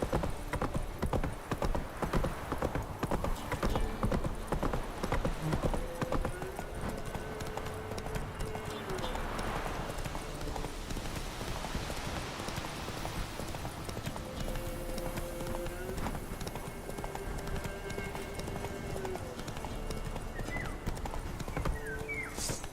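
Geralt's horse Roach gallops in The Witcher 3 game. Rapid, rhythmic hoofbeats run throughout at close range, with a brief whinny and faint background voices and music.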